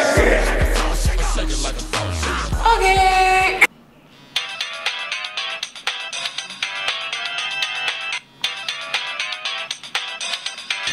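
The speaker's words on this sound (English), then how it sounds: "the duty phone is ringing" A duty phone rings at a military training hall, a loud electronic ringtone repeating steadily after a burst of noisy music that cuts off, with no clear talk.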